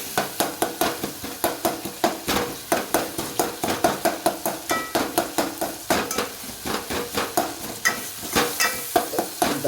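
Masala and salt being stirred into a pan of food on the stove, a steady rhythmic scraping of a utensil against the pan repeating roughly twice a second, with a light sizzle underneath, close and moderately loud.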